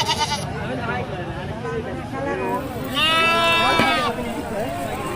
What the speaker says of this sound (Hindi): ये सामने बकरियां हैं।